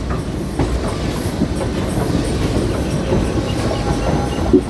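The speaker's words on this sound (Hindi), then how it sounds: "अभी हमारी ट्रेन चल रही है बठिंडा राजपुरा लाइन पर" The Shri Ganganagar - Rishikesh Express rumbles loudly along the Bathinda-Rajpura line, a steady close roar of rolling wheels with faint rhythmic clacking over the rails throughout.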